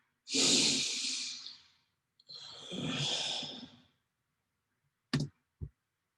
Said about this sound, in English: that's just me breathing into the microphone.